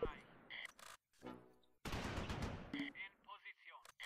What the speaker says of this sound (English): we're taking some heavy machine gun fire from right about here